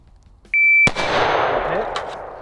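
A single loud, close rifle shot from a Springfield Hellion bullpup rifle cracks sharply after a faint beep, then rings out in a long reverberant decay across an open range.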